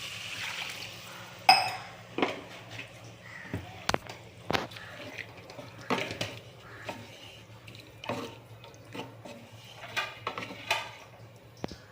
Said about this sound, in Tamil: இது நம்ம தண்ணி ஊற்றிடுவோம்